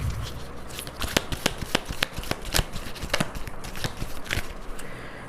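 Tarot cards being shuffled and drawn: a rapid run of crisp, close card flicks and snaps, loud against a quiet room, with a softer riffle toward the end and no talking.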